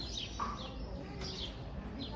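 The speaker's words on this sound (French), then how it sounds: "Toujours il y a des oiseaux." Small birds chirp faintly in short scattered tweets on a street in Elvas, Portugal, over a steady bed of outdoor background noise.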